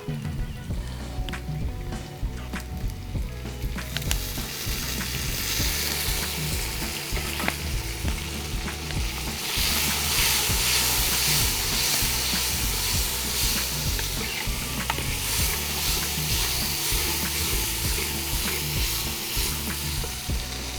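Tomatoes frying in a pan for Tamil brinjal kulambu, a loud continuous sizzle with steady stirring scrapes that grows brighter and hissier partway through, close up.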